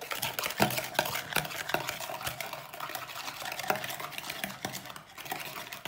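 A mixture for a Nutella roll stirred vigorously in a bowl, with continuous rapid scraping and clinking of a utensil against the sides, loud and close, with no talk.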